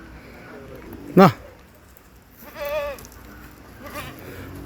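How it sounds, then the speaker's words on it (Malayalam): A Sirohi goat bleats loudly once up close, followed by a softer, wavering bleat and a faint third call, with low farm background noise. "സിരോയി ആട് കേട്ടോ"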